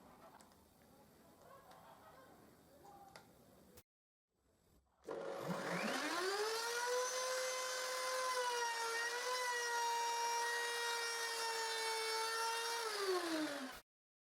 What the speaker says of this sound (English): Luckily I don't have to adjust the router fence, so I will route all the tongues.